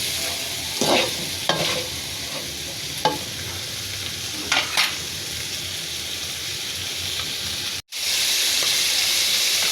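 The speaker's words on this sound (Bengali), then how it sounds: "নাড়াচাড়া করে দিব তেলের ভিতরে মাছগুলো। এভাবে কিছুক্ষণ মাছগুলো ভেজে নিব।" Tengra and koi fish fry in oil in a pan and are stirred, giving a steady, close sizzle and hiss broken by a few light scraping taps. After a brief cut, the frying comes back louder.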